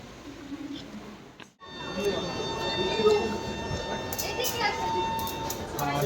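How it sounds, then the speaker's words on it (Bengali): Busy indoor bustle at New Jalpaiguri railway station: a hum of distant voices and steady rumble, with a brief dropout early on and faint high beeps later. "এখন নিউ জলপাইগুড়ি স্টেশনে দাঁড়িয়ে আমরা"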